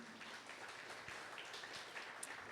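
Congregation applauding in a church, a faint, diffuse patter of clapping heard from some distance, steady and low in level for a couple of seconds.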